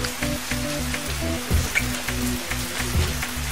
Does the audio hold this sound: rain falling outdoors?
yes